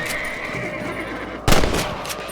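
Gunfire from shooting rabbits in the Red Dead Redemption video game: one loud, close shot bursts out midway over steady game ambience, with a horse-like whinny and a voice faintly in the background.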